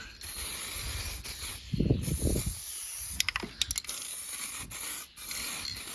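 Aerosol can of clear plastic primer adhesion promoter sprayed onto a plastic Cozy Coupe ride-on toy car being built into a mini Escort RS Cosworth. A steady close hiss runs throughout, with a few short bursts and some handling rustle midway.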